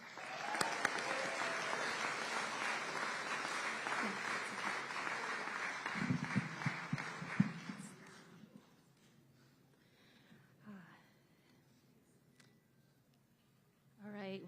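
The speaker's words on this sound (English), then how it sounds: "Let's give another round of applause to our young leaders" Audience applause for young leaders at the Oakland mayor's State of the City address, a loud, dense clapping from a crowd for about eight seconds that fades out, followed by quieter room sounds and some talk.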